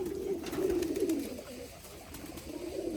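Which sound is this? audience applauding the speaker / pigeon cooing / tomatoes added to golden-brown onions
pigeon cooing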